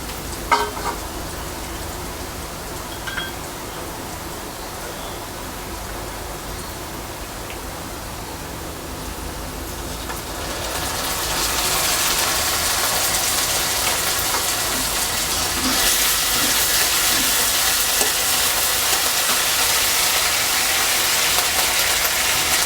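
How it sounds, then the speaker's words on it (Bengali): Onion and ginger paste frying in a pan, a steady close hiss and sizzle that grows louder about halfway through and continues without talk. "আদা বাটাটা ভাজা হয়ে আসলে"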